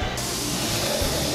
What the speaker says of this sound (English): This is our ribeye sizzling steak.